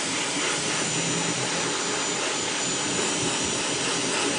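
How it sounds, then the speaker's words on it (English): Steady, loud whooshing roar of a hair dryer blowing continuously, close by, with no talking. "I'm going to rough dry a little bit quick as I can with the blow dry"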